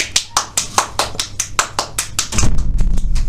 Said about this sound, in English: give a round of applause for my guest this morning